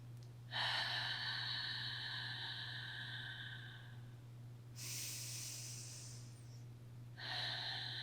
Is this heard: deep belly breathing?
yes